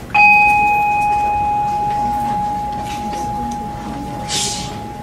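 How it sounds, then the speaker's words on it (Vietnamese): A bell at a Vietnamese communal house (đình) is struck once, a loud, clear metallic ring that sustains and slowly fades across several seconds, with faint background noise underneath. "Chuông này là chuông của đình, không phải chuông chùa."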